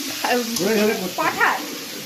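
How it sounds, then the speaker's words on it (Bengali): Loud sizzling as mutton hits hot oil in a wok, a steady crackling hiss lasting about two seconds. "একদম পাঠা চলে গেল কড়াইতে"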